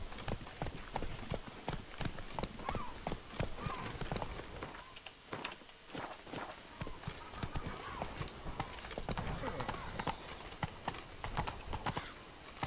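Hooves of the horse Roach clip-clop steadily in The Witcher 3: Blood and Wine, a continuous trotting rhythm of close, crisp hoofbeats running the whole time beside faint game ambience.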